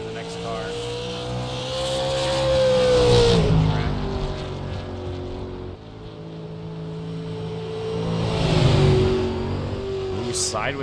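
Two loud passes from a race car lapping Five Flags Speedway in an ASRL Super Series qualifying session, each engine roar building, peaking and fading as it sweeps by, with a commentator talking over the track noise.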